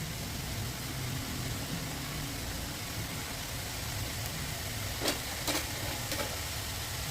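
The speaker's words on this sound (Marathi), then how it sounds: "यावर आता मी कोथिंबीर टाकते." Broccoli vegetable dish cooking in a pan, coriander being stirred in: a steady, even sizzle and hiss runs throughout, with a few brief scraping clicks of a spoon near the end.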